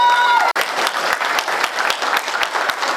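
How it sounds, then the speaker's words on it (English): Loud round of applause from a room full of young people at a youth summit and empowerment conference, dense clapping starting abruptly after a brief tone and continuing strongly to the end. "So can you just make a really loud round of applause for everybody in here?"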